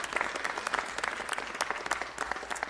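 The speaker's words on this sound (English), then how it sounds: "Big round of applause for the folks around me" A crowd at a Los Angeles city council meeting applauds, a lively burst of many distinct claps with sharp individual hits, fairly close and moderately loud, with no one speaking over it.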